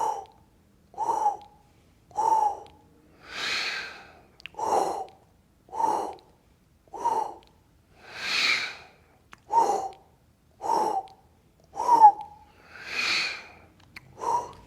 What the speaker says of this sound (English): Use that powerful inhalation through the mouth to fully fill your lungs